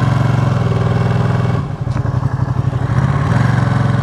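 A Ducati Panigale V2 motorcycle engine drones loud and close while riding, a steady low rumble that briefly drops into choppier, uneven firing before settling back to a smooth cruise.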